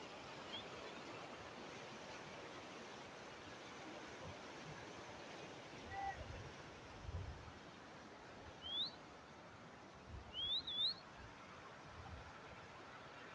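Overflow water from Malir Dam in Gadap Town, Karachi, running past as a steady broad rushing wash, with a few faint bird chirps over it.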